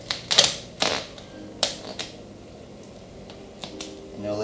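A blade slicing vinyl wrap on a car's front fender at the corner panel: several sharp, crisp ticks and snips in an irregular sequence, close and clear, with quiet pauses between and no talking.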